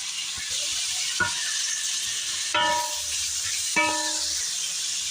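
Garlic frying in hot oil for Filipino menudo gives a steady bright sizzle throughout, with a few clinks of a utensil against the pan as it is stirred.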